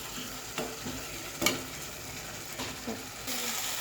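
Fish slid into a pan of oil already tempered with white cumin seeds gives a steady hiss and sizzle, with a few sharp clicks and scrapes of stirring scattered over the frying.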